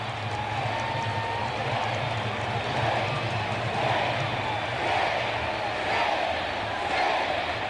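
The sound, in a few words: baseball stadium crowd chanting Sid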